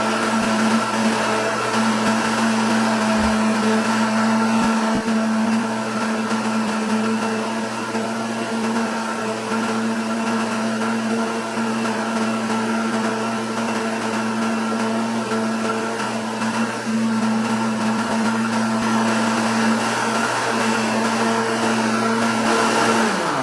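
A blender runs continuously, loud and close, as it beats sugar-free pudding batter, a steady whirring motor drone with no pauses for the whole stretch.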